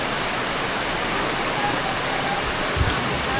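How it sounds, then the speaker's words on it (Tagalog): Heavy rain pouring steadily, a dense loud hiss with a dull thump near the end. "Malakas pa rin ang ulan."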